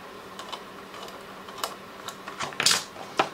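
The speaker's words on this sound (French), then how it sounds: "Il me faut un petit ciseau pour couper ça." Small scissors snip stray fibres off a woven bag, giving a few sharp, close clicks spaced irregularly, with a brief louder cluster of cuts near the end.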